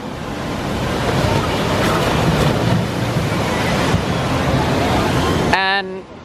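Ripsaw Falls log flume water ride at Islands of Adventure: a steady, loud wash of rushing, splashing water and wind-buffeted noise filling several seconds, then cutting off abruptly into a brief tonal blip.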